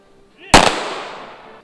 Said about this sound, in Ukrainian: у парку Шевченка пролунав військовий салют